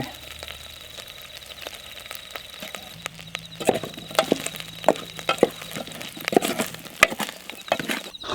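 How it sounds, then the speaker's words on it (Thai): Red curry paste fries in a pan outdoors, sizzling steadily with crackles and pops that grow busier and sharper as it is stirred, close and fairly loud. "ทอดก่อนทอดทอดพริกแกงให้มันหอม"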